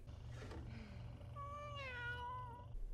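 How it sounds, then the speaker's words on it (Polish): A cat meows inside The Sims 1, a drawn-out, rising-and-falling call heard clearly and alone near the end, over a low steady game background. "Co to jest? To był kot?"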